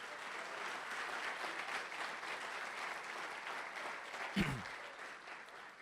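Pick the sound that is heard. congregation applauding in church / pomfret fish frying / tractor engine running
congregation applauding in church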